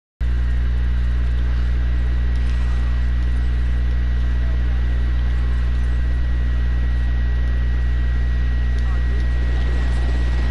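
A constant low droning helicopter rotor and engine hum in a video game, steady and loud throughout, with a faint high whine and no talking.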